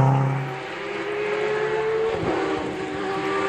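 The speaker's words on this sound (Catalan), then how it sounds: "Es un Porsche, de veres." A Porsche rally car racing along the Simat–Puigmola stage of the Rally Gandia: a loud engine roar approaches and sweeps past, its pitch dropping sharply as it goes by, then fades on into the distance.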